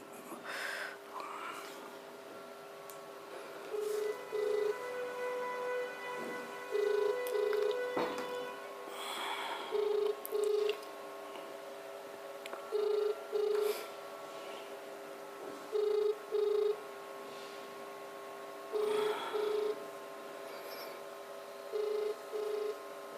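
A phone ringback tone repeats in regular double pulses, about every three seconds, over a quiet hum with brief faint sounds between rings.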